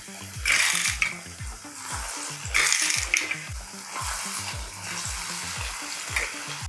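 Cabbage pakoras frying in hot oil give a steady close sizzle that swells into louder crackling bursts as they are pressed and stirred, over a soft, low tonal background.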